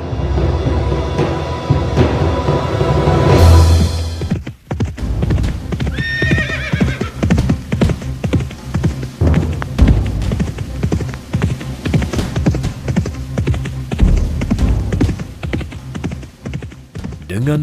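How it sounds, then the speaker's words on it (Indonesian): Horse neighing and hooves clip-clopping in an Indonesian radio drama, with hoofbeats steadily trotting for the full stretch and a whinny rising partway through, heard under and between spoken lines. "Dengan mengendarai kuda, Wirapati dan Pak Sumpeno sampai di padepoka"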